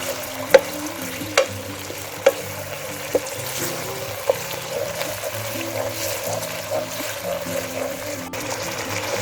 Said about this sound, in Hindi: तो आप अच्छे से साथ ही फ्राई कर लें।